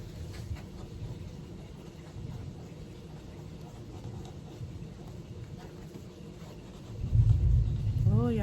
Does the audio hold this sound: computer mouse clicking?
no